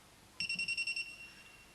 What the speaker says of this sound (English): stays at a constant pitch and loudness like my alarm clock